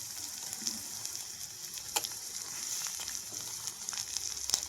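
Small eggplant pieces and potatoes fry in a pan with a steady, moderately loud sizzle, broken by occasional sharp spatters and light stirring clicks.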